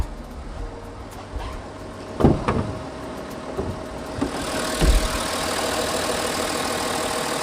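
An Audi A8 50 TDI quattro V6 diesel idles with the hood open, a steady low mechanical clatter close by, broken by a few knocks and clunks, before a brighter broadband whir takes over.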